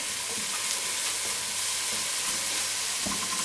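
Chopped onions and potatoes sauté in a pan for tartiflette, giving a steady, close sizzle with a few soft stirring scrapes and no voices.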